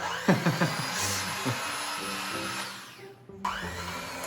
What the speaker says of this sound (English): Stand mixer and hand mixer beat together the sugar and soft butter until light and fluffy.